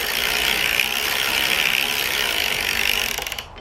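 Erlbacher Gerhart Speedster sock knitting machine being cranked, a steady close mechanical ratcheting clatter of gears and pawls running continuously, then slowing and stopping near the end.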